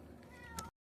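Cats meow while being fed outdoors on a fishing outing, with a short meow rising over a low background rumble before the sound cuts off.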